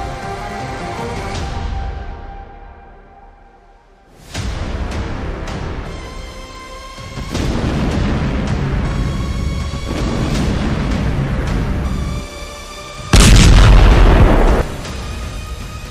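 Israeli strikes in Lebanon produce a series of loud, heavy booms and blasts, each followed by long rumbling roar and debris noise, with one especially powerful close detonation late in the sequence; no speech.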